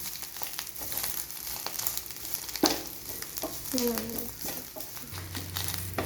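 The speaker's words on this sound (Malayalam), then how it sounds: "ഇനി നന്നായി ഒന്ന് ഇളക്കി കൊടുക്കാം ഈ ഒന്ന് ലോ ഫ്ലെയിമിൽ വെച്ചേക്കാം" Moringa leaves being stirred in a pan over a low flame, a soft steady sizzle with scraping spoon strokes and a brief clatter midway, close by.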